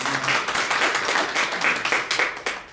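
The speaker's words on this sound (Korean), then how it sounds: "다시 한번 큰 박수 부탁드리겠습니다" Audience clapping after a congratulatory speech at a human rights center launch ceremony in a press center hall, a fairly close, brisk burst of applause with individual claps audible throughout.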